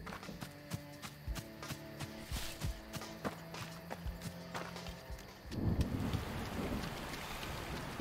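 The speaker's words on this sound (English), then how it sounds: "It's raining." Rain patters steadily at a campsite in the High Lakes, with sharp knocks and clattering throughout, then a louder rush of rain in the last few seconds.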